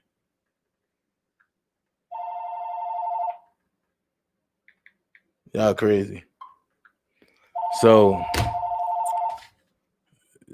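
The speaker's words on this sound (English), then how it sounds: "I don't know why y'all keep calling my phone" A telephone rings in two steady electronic bursts, near and clear, with someone talking between them.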